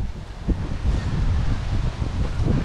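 Strong wind roars and buffets the microphone continuously, with a low churning rush like surf mixed underneath; no voices.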